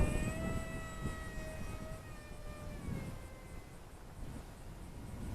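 A small electric motor on an LDARC Tiny Wing 450X RC airplane whines in flight, a thin steady tone that drops in pitch as the throttle eases back, heard faintly over outdoor wind noise.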